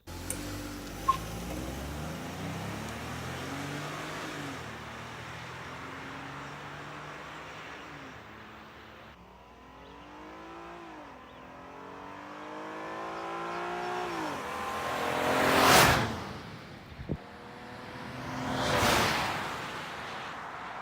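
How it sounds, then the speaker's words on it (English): A car fitted with a cold air intake accelerates through the gears in the distance, then passes by twice with loud whooshing sweeps, its engine note rising and falling. "I can do some 0 to 60 pulls as well as some drive-bys"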